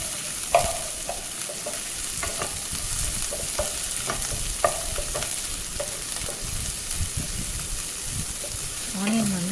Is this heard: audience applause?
no